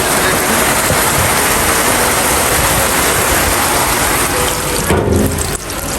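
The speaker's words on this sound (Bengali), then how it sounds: "আর বাইরে প্রচণ্ড বৃষ্টি" Heavy rain pours outside a home kitchen during evening cooking, a loud, steady broadband hiss that fills the whole stretch and eases slightly near the end.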